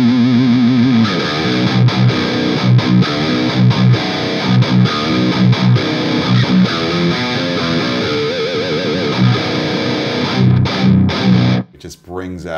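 Loud distorted electric guitar riff through a MESA/Boogie amp on a shred setting, from the ending of a song, with rapid palm-muted chugging and dense sustained tones that cut off abruptly near the end.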